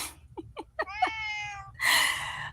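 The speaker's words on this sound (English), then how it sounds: "He looking around just hollering meow." A hungry house cat hollers repeatedly, first several short chirping meows, then a drawn-out meow and a loud harsh yowl, close by with faint low background hum.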